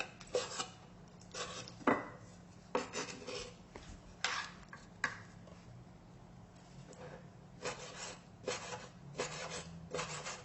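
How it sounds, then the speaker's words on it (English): A knife chopping a whole squid on a cutting board: a run of sharp, irregular cuts and scrapes, loud and close, some in quick pairs, with a low steady background hum and no talking. "chop it up."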